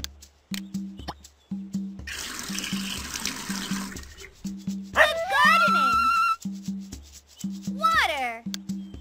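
Cartoon water pours in a Dora online game, a steady hissing splash for a couple of seconds amid game music, chimes and rising effect tones, with a voice speaking around it.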